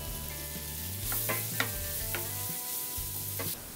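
Garlic and mushrooms frying in melted butter in a pan for white sauce pasta, a steady close sizzle with a few sharp clinks of a stirring spoon against the pan.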